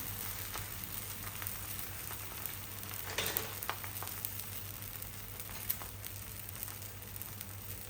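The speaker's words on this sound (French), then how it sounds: "Un petit peu d'huile ici. Pour qu'elle puisse bien être dorée." A vegetable-stuffed msemen flatbread fries in oil in a pan, giving a quiet, continuous sizzle with scattered small crackles and pops and no voices.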